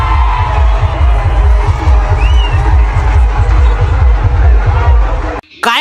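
A huge crowd roars and cheers at a large bullock cart race in Maharashtra, a dense, sustained wall of voices with a pulsing low rhythm beneath, loud and close, cutting off abruptly near the end.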